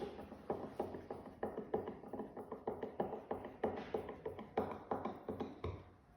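Screws being driven into wood in a woodworking session, a steady series of sharp ratcheting clicks from the driver repeating in even bursts, close and fairly quiet.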